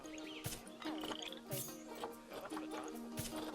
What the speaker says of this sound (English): Frog, that's something good.